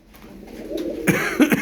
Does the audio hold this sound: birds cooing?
yes